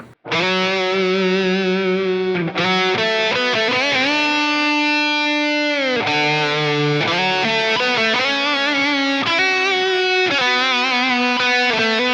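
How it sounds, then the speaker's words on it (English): A sustained, distorted electric guitar solo plays continuously, its phrases smeared by trailing ping-pong delay echoes and a wide, effected tone. "for the solo sound, I use a ping pong delay"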